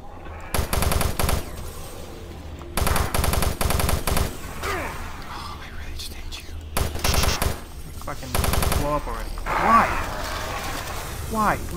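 Bursts of rapid automatic gunfire in the video game Doom 3, several loud sustained volleys separated by short pauses filled with game sounds, someone talking and laughing over parts.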